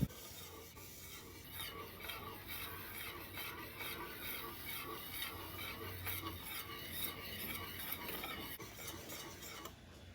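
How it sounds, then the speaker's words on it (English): A wire whisk scraping and stirring continuously through a pot as quick-cooking grits are added to boiling liquid for sweet potato grits, a busy rasping swish with a faint sizzle underneath, steady and close throughout. "we're going to slowly add and whisk in 1 cup of quick cooking grits"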